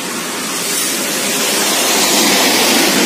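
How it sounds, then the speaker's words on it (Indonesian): Fresh rain pours down outside a workshop where a custom motorcycle crash bar is being painted, a loud, dense, unbroken hiss that holds steady throughout with no voices. "ini hujannya masih baru saja turun"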